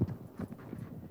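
Horse hooves clip-clopping during a riding lesson, a steady series of soft, fairly close thuds repeating at an even gait, with no talk over them.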